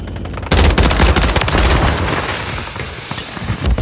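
Sudden bursts of automatic gunfire and scattered shots erupt in a World War III video game battle, loud rapid cracks in dense clusters that continue throughout.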